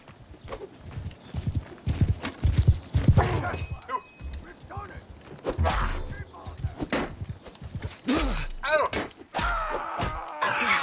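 Horses galloping in a Mount & Blade II: Bannerlord battle: rapid irregular hoofbeats at close range, mixed with combat clashes, grunts and a whinny, while someone talks over the action.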